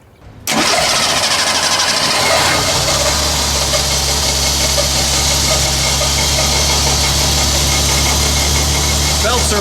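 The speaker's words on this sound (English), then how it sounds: "Belts are a little slippy." A car engine coated with antifreeze after an emergency radiator hose repair starts abruptly and runs at a steady idle, with a high squealing whine from slipping belts laid over the engine noise, close and loud.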